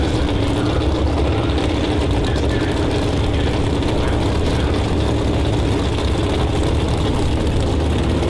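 A Dodge Hemi drag racing car sits at the staging line, its engine roaring loud and steady with a dense, heavy low rumble that holds without a break.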